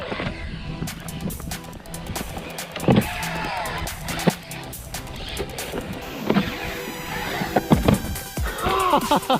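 A brushless Arrma Typhon Grom RC car bashing around outdoors, its electric motor whining in rising and falling bursts with tyre scrabbles and clattering bumps over nearly ten seconds of steady, fairly loud activity.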